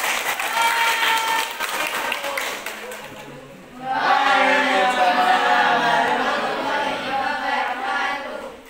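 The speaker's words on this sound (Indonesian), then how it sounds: "Beri tepuk tangan untuk kelompok 1." Classroom applause from students for a presenting group, steady clapping filling the room with a brief dip midway before resuming louder, with some talk mixed in.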